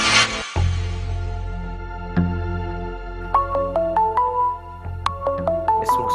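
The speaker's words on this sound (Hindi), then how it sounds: "इस मुसीबत का फोन कहां से आ गया?" A phone ringtone plays a repeating electronic melody of bright, stepped tones, loud and close, following a low rumble at the start.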